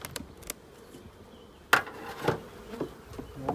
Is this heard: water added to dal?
no